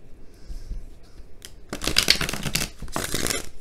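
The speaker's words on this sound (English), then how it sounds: "one more good shuffle," Tarot cards are riffled and shuffled in quick papery bursts, a softer flutter first, then two louder, longer shuffles close up, with no talking.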